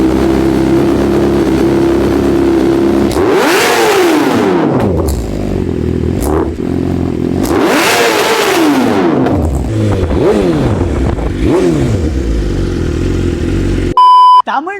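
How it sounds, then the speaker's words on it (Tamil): A BMW S1000 RR M Sport sportbike revs hard several times in close succession, each exhaust blip rising and falling in pitch, loud and nearby with the engine idling between pulls and a short electronic beep at the end. "ஐடியல் எக்ஸாஸ்ட் நோட் கேட்டுடலாம்."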